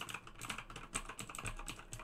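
Rapid clicking from a mechanical computer keyboard used to move through cameras in a Five Nights at Freddy's game, close and continuous keystrokes with no pauses.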